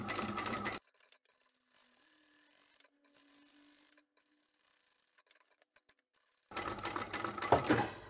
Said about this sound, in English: I can just sew up to the corner and keep going